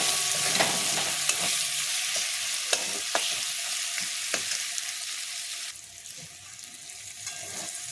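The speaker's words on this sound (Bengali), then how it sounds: "আর দেব জিরে গুঁড়ো 1 চামচ মতো, দিয়ে ভালো করে এটাকে কষাতে হবে।" Onion and capsicum sauté in a pan with cumin powder for paneer bharta. A bright, continuous sizzle runs throughout, punctuated by regular scraping stir strokes, and it quietens somewhat in the last couple of seconds.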